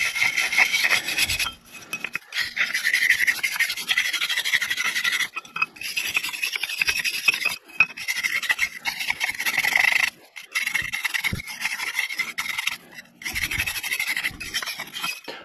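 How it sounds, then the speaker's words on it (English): Scraping at the edges of a seized weeping tile (French drain) flap, a steady dry rasping and rubbing that runs almost continuously near the microphone, broken by a few short pauses. "Try and scrape the edges of this flap, clean it up as much as we can."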